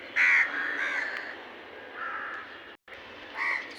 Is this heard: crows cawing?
yes